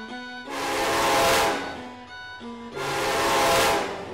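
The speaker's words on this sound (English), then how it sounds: "We have to get off these tracks. The train's gonna hit us." Loud train horn blasts twice, long sustained tones over rumbling noise, sounding close and swelling in intensity.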